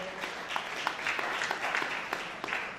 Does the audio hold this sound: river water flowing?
no